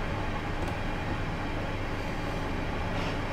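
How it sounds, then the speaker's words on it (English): Class 456 two-car electric train running in Train Simulator 2019, a steady broadband rumble and hum of wheels and motors, constant and moderately quiet throughout. "We are only driving a two-car train"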